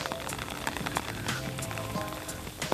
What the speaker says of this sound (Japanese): 雨宿りをしよう。